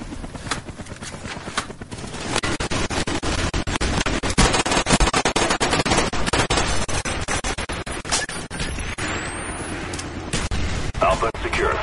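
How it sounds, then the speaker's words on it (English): Video game combat with incoming mortar strikes and gunfire, a dense, continuous clatter of rapid shots and impacts, loud and busy throughout, under a voice speaking. "Friendly mortars inbound."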